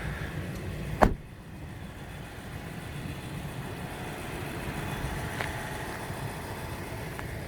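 A brand-new 2024 Nissan Titan Pro-4X pickup idles with a low, steady rumble, broken early by a single sharp click or thud.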